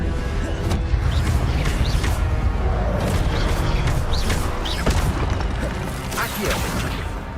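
Fiery spell blasts from Incendio cast in the video game Hogwarts Legacy, a dense run of booming bursts and crackles over a steady loud rumble, with brief whooshes throughout.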